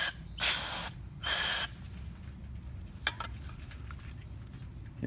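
Two short, close hissing bursts of cleaner spray into a Troy-Bilt TB110 mower carburetor, followed by faint ticks over a low background rumble.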